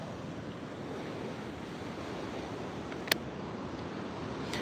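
Ocean surf washes steadily near a concrete waterfront, a continuous hissing wash mixed with wind buffeting the microphone, with one brief sharp click partway through and no speech.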